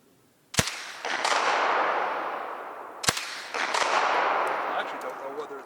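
A Belgian M2 Vigneron submachine gun fires outdoors in two sharp, loud single reports about two and a half seconds apart, each followed by a long, rushing noisy tail.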